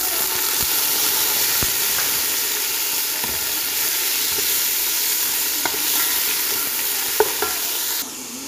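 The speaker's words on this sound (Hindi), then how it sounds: "अब इसमें लहसुन अदरक का पेस्ट डाल दें।" Garlic-ginger paste sizzling loudly with lightly browned onions in a pan for chana pulao, a steady close frying hiss broken by spoon scrapes and faint clicks, easing slightly at the very end.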